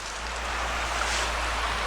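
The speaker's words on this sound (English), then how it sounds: "here is that little stream or water channel we've been following" A small stream or water channel runs past ruins in a steady, even rush of flowing water, close and continuous, with a low constant rumble beneath and no talking.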